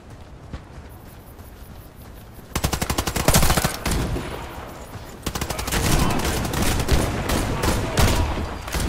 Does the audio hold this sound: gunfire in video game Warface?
yes